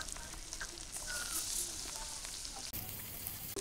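Onion, turmeric and chilli pastes fry in hot oil in a village kitchen, a steady broadband sizzle that holds close and fairly loud throughout, briefly dipping near the end.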